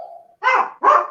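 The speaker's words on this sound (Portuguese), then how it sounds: "Aí o cachorro fica latindo" A dog barks twice, loud and close, with two sharp barks about half a second apart after a faint brief whine.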